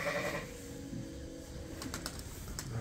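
Pregnant white-wooled Dorset ewes in a barn give a short bleat, with faint bird calls and chirps in the background and steady ambient noise.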